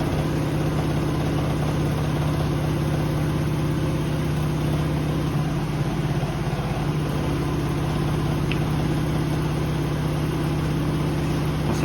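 A Miele W562 Prestige Plus washing machine spinning at 900 RPM, a steady loud low hum and drone with constant vibration that holds evenly throughout, no talking.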